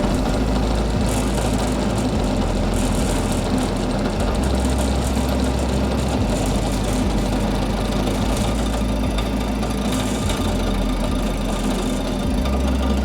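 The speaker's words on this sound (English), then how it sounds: "I've got a carbide cutter and it's just chomping through it like there's no tomorrow." Carbide cutter milling metal at a fast feed rate, a loud continuous mechanical chatter and grinding drone with a steady rapid pulsing, close and unbroken throughout, with no talk.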